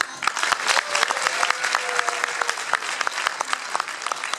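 An audience applauds steadily at a live event, a dense patter of many hands clapping continuously without pause, fairly loud and close, with no talking over it.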